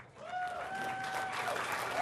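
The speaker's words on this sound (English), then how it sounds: "How about a nice round of applause for our 2 finalists?" Applause for two finalists at a Class D and C boys state finals trophy presentation, a steady moderate clapping from a crowd with a sustained tonal whine running over it for about two seconds.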